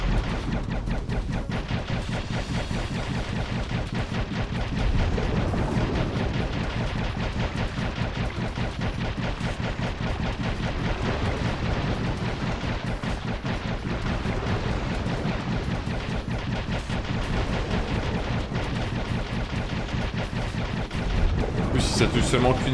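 Rapid, dense bursts of gunfire from the video game Dave the Diver repeat steadily and loudly throughout, with a voice speaking intermittently over the shots.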